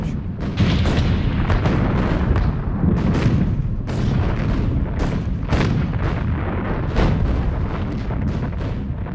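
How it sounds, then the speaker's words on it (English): A sustained barrage from about 150 cannons at Gettysburg, booming shots overlapping in rapid succession into a continuous loud rumble with sharp bursts throughout. "It began at 1 o'clock with a cannon barrage."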